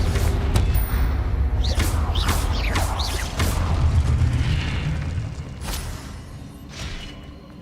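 Confringo fire spell blasts in Hogwarts Legacy, a series of loud booming explosions with crackling bursts, rumbling continuously before easing off toward the end.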